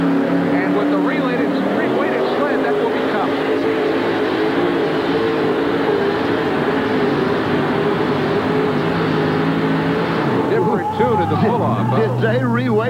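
A 1984 Chevy pulling truck with a 572 cubic inch engine drags a sled at a truck and tractor pull in Kansas City, its engine screaming loud and sustained, pitch shifting near the end, with an announcer talking over it.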